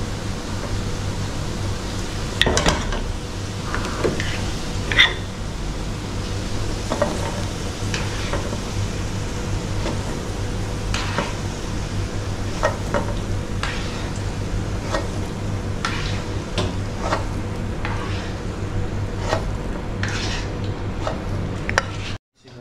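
Onion sautés in a pan for corned beef fried rice, with a steady close sizzle and repeated clicking scrapes of a utensil stirring throughout, a faint hum underneath and no talk.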